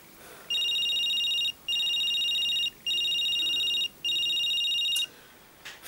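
A telephone rings unanswered at night in a quiet home, four steady electronic ring bursts of about a second each with short gaps, fairly loud and alone, ending abruptly.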